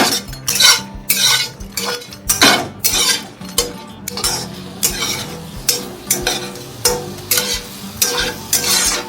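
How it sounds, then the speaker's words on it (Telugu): Prawns being tossed in a honey garlic sauce in a pan, with repeated close clinks and scrapes of a utensil against the cookware in an irregular stirring rhythm, plus light sizzling. "నెక్స్ట్ దీనిలోకి మంచిగా ఇలా టాస్ చేసేయడం."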